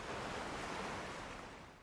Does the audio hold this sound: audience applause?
no